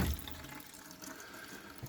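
Water running from an RV's hot water line tap, a steady faint rush of flowing water heard close and alone.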